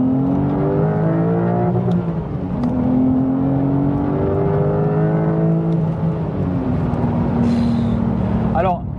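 A Porsche 911 engine revs hard and climbs through the gears, pulling from about 4000 to 6000 rpm with turbo-boosted surges. The rising harmonic drone is loud and continuous, close to the listener, with a voice talking over it.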